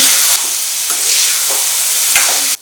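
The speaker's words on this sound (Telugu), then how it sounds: "సాల్ట్ వేసాక ఒకసారి బాగా కలుపుకోవాలి" Chicken and onions fry in hot oil while being stirred, producing a loud, dense, continuous sizzle with soft scraping sweeps of the spoon. The sound cuts off abruptly at the end.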